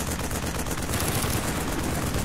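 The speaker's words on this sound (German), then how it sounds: "Wie schießen die noch?" Dense, continuous gunfire in Call of Duty Black Ops fills a short stretch as an unbroken wall of rapid shots and battle noise at steady loudness, with no pauses.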